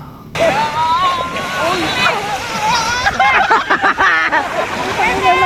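Sea water sloshes and splashes at Laiya beach, a steady wash of surf mixed with several people talking and calling out nearby throughout.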